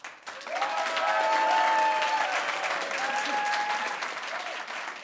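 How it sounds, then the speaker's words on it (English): Audience applause in a room at a debate: dense, loud clapping swells quickly and holds for several seconds before easing slightly, with faint voices underneath. "give a really big hand of applause"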